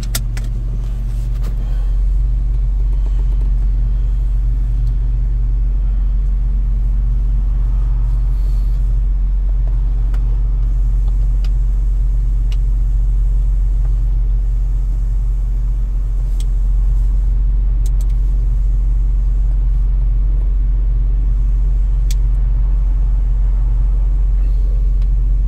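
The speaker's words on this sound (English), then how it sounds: "So right now I'm just fixing to do a road test." Small Smart car on a road test, its engine a steady low rumble with continuous road noise from start to finish, close and fairly loud with no talking.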